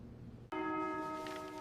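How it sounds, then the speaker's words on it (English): A bell rings out at the end of an exam, striking once and then sustaining a bright, ringing tone that slowly decays. "The bell rang."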